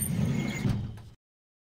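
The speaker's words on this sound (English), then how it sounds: "Let's see what's behind this drawer." A drawer sliding open in the detective adventure game The Pandora Directive, a short low scraping rumble lasting about a second with a faint squeak, then abrupt silence.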